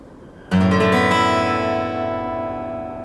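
A D6/9 chord is strummed once on an acoustic guitar across all six strings, sounding close and clear, then ringing out and slowly fading for about two and a half seconds.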